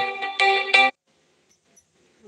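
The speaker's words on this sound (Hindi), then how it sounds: "पता नहीं किसका फोन आ रहा है" A phone ringtone plays a short melodic tone three times in quick succession, fairly clear and alone, then cuts off into near silence.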